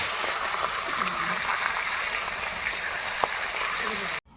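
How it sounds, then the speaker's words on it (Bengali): Fish hissing and sizzling steadily in hot mustard oil, a dense close frying crackle throughout with a single sharp pop, cutting off abruptly at the end. "তেল গরম হয়ে গেছে এবার মাছগুলো দিয়ে দেবো"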